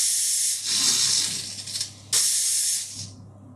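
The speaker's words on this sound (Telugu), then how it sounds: "3 to 5 విజిల్స్ వచ్చేదాకా ఉంచుకోండి." Pressure cooker whistling while cooking palakura pappu, spinach with lentils, a loud close hissing steam jet that dips briefly, then bursts again sharply and tails off to quiet near the end, no talk.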